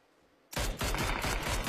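Gunfire in a PUBG esports match, a sudden loud burst of rapid repeated shots after a quiet start, continuing as a dense volley.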